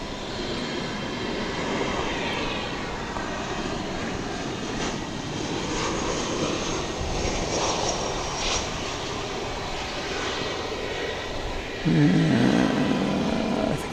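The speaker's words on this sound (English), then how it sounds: "We were trying to find American Flight 1432 to or from Querétaro in Mexico, an Airbus A320." A jet airliner passes at DFW Airport, a fairly faint, steady engine roar with a brief louder surge near the end, heard on its own without voices.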